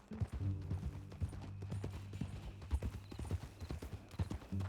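Horse hooves clip-clop at a steady walking pace on a ranch trail in the Western game Red Dead Redemption 2, close and clear, with an occasional faint creak of tack.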